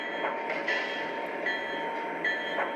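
A Lionel Legacy ES44AC 49'er model train locomotive runs with a steady, close mechanical hum and rumble, swelling slightly in a few soft periodic pulses, with no voices.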